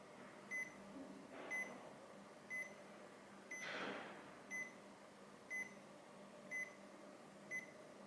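TT108 tour guide wireless receiver sounding its turn-off alert: a regular series of eight short, faint high beeps about a second apart over a soft background hum, with a brief rustle in between.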